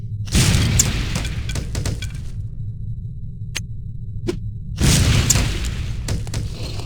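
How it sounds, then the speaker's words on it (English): An explosive lipstick detonates in No One Lives Forever. Two heavy booms, several seconds apart, burst out and each fades into a rumbling tail, with a few sharp ticks in between. "relatively inconspicuous-looking lipsticks are actually powerful explosive devices that detonate on impact"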